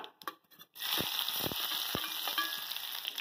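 Chopped onion sizzles and crackles in hot oil in a wok with mustard seeds and cumin, a loud steady frying hiss with a few stirring scrapes after a brief quieter start.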